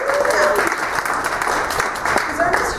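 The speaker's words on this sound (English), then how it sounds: "Let's give him applause." A congregation at a Sunday service applauds for Ernest after singing happy birthday, steady mixed clapping with cheers and voices over it throughout.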